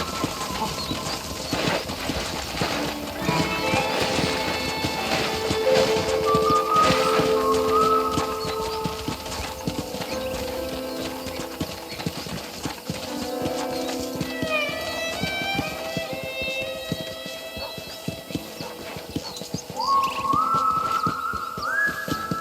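Horse riding in the Red Dead Redemption video game, with steady hoof clip-clop under a continuous game soundscape, bursts of whistling and a possible whinny, loud and busy throughout.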